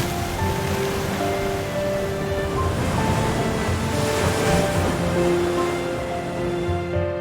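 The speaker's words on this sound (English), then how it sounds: "The uncompromising waves of the Atlantic Ocean break against the majestic cliffs" Atlantic Ocean waves break against tall sea cliffs on Gran Canaria, a continuous loud roar of surf and churning water with wind noise, while steady tonal music plays over it.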